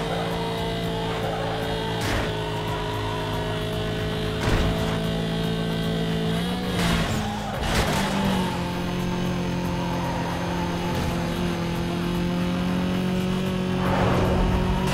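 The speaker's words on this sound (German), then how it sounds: "So als wäre mir ein Auto auf den Fersen." A pursuing car's engine in the racing game Need for Speed Most Wanted, a steady droning hum behind the player's own vehicle, continuous and moderately loud with a few brief swells and no talk over it.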